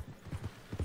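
Horse hooves clip-clop in Red Dead Redemption 2: a handful of soft, low thuds in an uneven walking rhythm, quiet and close, with no talking.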